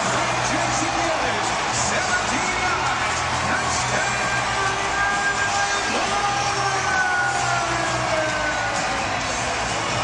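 An arena football crowd at ArenaBowl XXIV in Arizona roars and cheers after a Rattlers touchdown, a loud sustained wash of whoops and yells with a stadium announcer's voice running over it.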